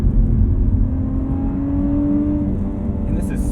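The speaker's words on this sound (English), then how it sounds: "I hear that induction howl" A 2020 Lotus Evora GT under way, its engine giving a loud, steady low drone with a rising induction tone swelling through the middle, heard from inside the car with a brief higher noise at the end.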